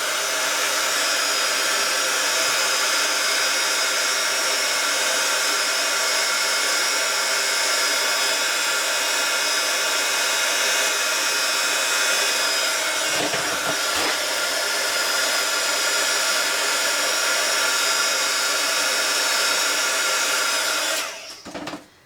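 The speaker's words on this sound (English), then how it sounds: "I'm just going to use a heat gun" A heat gun blows hot air onto paper petals to curl them for a handmade card, a loud steady whooshing drone held close for about twenty seconds before switching off, with a brief knock midway.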